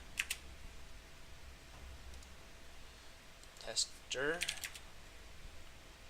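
Several quick clicks of computer keyboard typing while entering a map search in StarCraft 2's custom games menu, faint and sparse against a quiet background hum, with a brief rising tonal blip near the end.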